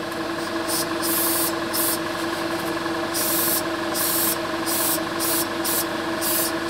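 A spray gun lays a first light coat of paint onto a car body, its hiss coming in repeated short bursts over a steady background hum, close and fairly loud.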